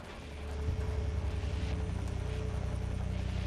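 A helicopter in Splinter Cell: Blacklist spools up for liftoff, its low rotor thumping swelling within the first second and then holding as a steady rhythmic chop under a faint engine whine.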